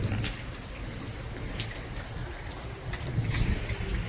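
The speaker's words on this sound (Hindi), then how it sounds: "बारिश भी लगातार हो ही रही है और तेज तेज बारिश हो रही है" Steady heavy rain patter with scattered drops hitting surfaces nearby, a constant soft hiss with low rumbling underneath.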